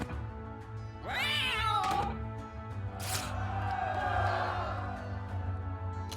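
Cats meow in the video game Guild of Dungeoneering, two drawn-out, wavering yowls rising over a steady background music bed, loud and close with a short sharp burst between them.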